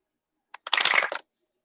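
Tarot cards shuffled in the hands, a brief crisp riffle of about half a second after a single soft tap, close and clear with no talking.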